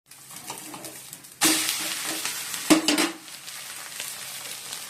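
Dried chillies and onion fry in hot oil with a sudden loud sizzle that swells, spikes once more, then settles into a steady crackle, close up with no talk.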